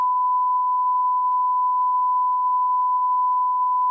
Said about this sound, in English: But there's just going to be one really long beep.